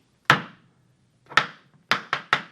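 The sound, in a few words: Irish dance shoe banging step on floor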